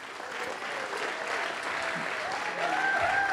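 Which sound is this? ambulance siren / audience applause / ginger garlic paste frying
audience applause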